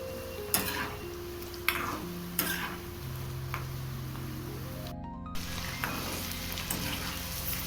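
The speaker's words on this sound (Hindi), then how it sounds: "इसे भी अलटते पलटते हुए अच्छे से एकदम क्रिस्पी फ्राई कर लेंगे" Party snacks fry in a pan with a low, steady sizzle, broken by a few sharp clicks and taps as they are turned over.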